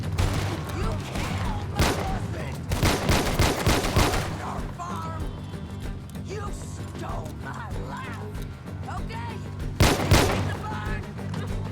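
Gunfire in the video game Red Dead Redemption 2 comes as bursts of rapid shots, loudest in clusters near the start and again later, with scattered game sounds and voices talking in between.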